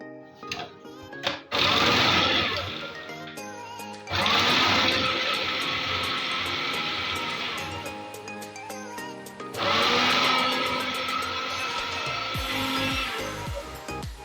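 An electric chopper finely chops onion and green chilies in three loud whirring bursts, each running a few seconds with brief pauses between, close and steady in pitch.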